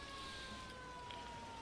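Emergency vehicle siren in a video game, a 911 first responders mod, sounding as a steady, loud, continuous tone held throughout without interruption.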